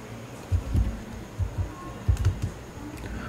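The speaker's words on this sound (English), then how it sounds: "we need to open the terminal first and type the following commands" Computer keyboard keys tapped a handful of times in short uneven clusters while terminal commands are typed on an Ubuntu machine, quiet and close with no talking.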